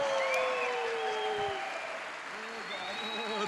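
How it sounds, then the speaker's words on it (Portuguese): An audience applauds at a Brazilian stage show, steady clapping close-up over a few seconds with someone talking over it and bright tonal sounds in the background. "Eu queria que vocês aplaudissem e gritassem com esse camarada, Ningo Vieira!"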